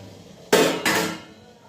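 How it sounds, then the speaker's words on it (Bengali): A lid lifted off a cooking pot of steamed puli pitha, two quick close metallic clatters in succession fading into a short ring. "এবার ঢাকনা খুলছি।"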